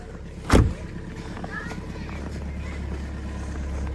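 A car engine starts in cold, snowy weather: a sharp thump, then a low, steady idle rumble that settles in and keeps running at close range.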